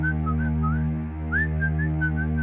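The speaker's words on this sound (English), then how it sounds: "I heard someone whistling from behind me." A person whistles a wavering, sliding tune over a steady low hum, with a brief pause partway through.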